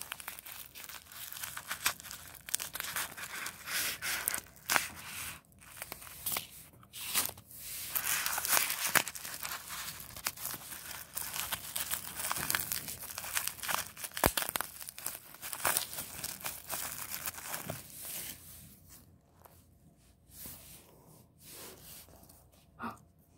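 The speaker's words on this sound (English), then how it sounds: "I'm gonna go ahead and rip up everything." Plastic and paper packaging for diamond painting cover minders is ripped open by hand, with continuous close crinkling, crumpling and sharp tearing bursts throughout, and no talk.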